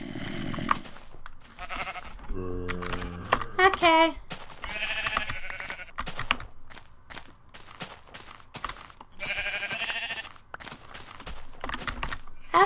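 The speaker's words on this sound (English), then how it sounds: "Ooh, it looks like a bunch of sheep over here." Sheep bleat in a video game, a short run of wavering cries in the middle over soft footsteps and game sounds, with a voice speaking briefly.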